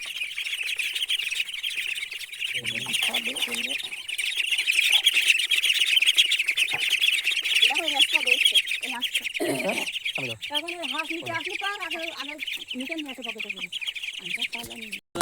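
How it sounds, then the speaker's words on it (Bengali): Tiny ducklings beside a paddy field in a Bengali village peep constantly in a dense, high-pitched chorus close by. Voices talk over the chirping partway through. "এই যে ছোটো হাঁস দেখো কত ছোটো ছোটো হাঁস"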